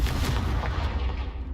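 A Confringo fire spell blasts in the video game Hogwarts Legacy while fighting spiders in an underground cellar, giving a loud, dense, roaring burst of explosive noise that fills the short moment.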